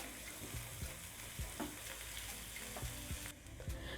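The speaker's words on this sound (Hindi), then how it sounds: "अदरक लहसुन की पेस्ट भी देखें हल्के से भून चुकी है" Ginger garlic paste frying in a pan for a restaurant-style creamy chicken karahi, a continuous close sizzle broken by periodic scraping stirs, steady and moderately loud with no voices.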